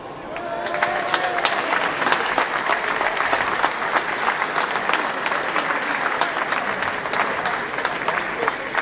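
Sustained applause from a crowd at a classic car show prize ceremony honouring the Light Car Club, with dense steady clapping that swells and continues for the whole stretch.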